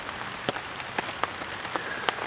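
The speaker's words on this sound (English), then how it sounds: "it's definitely West Coast weather in April. An abundance of rain." Rain falls steadily on a campsite on the West Coast in April, a soft constant hiss broken by scattered sharper drops tapping nearby surfaces, with no one talking.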